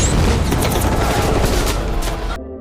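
Heavy, sustained gunfire from enemy troops in a scene from The 100 pours out as a dense, loud barrage of overlapping shots and booms, cutting off abruptly near the end.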